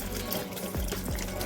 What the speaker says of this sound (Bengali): আর মেসওয়াকটা জাস্ট একটু ধুয়ে নিচ্ছি।